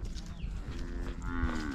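An ox moos once in a long low drawn-out call that rises near the end, heard close up outdoors over light background noise, with no talking.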